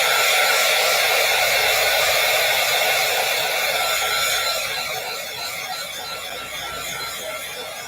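Hair dryer blowing in a steady, loud, close rush of air that fades slightly toward the end, with no one talking.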